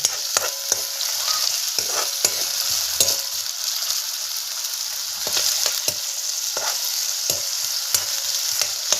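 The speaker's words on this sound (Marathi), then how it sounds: "बटाटा टाकलेला आहे थोडंसं हलवून घ्यायचं आपण" Potatoes frying in a pan over a wood-fired stove for sabudana khichdi, a continuous close sizzle broken by repeated scrapes and clacks of a spoon as the pieces are stirred.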